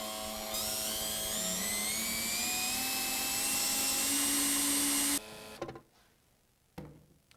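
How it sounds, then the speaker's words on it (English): A power drill whines steadily for several seconds, pitch rising slightly as it bites into a Polaris RZR XP 1000, then cuts off with a few short bursts after. "we're going to take our drill bit, make sure to not exceed 3/4 diameter, and begin to drill"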